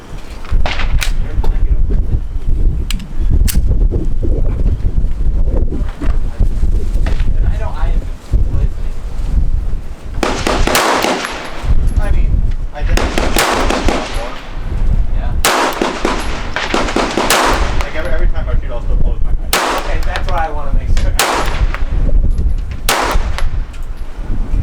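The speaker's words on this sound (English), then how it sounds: "I'm finna shoot at this target" Gunshots from an HK P30L pistol fitted with a compensator, fired outdoors at a target: loud, sharp cracks in irregular bursts over heavy wind buffeting, with someone talking between shots.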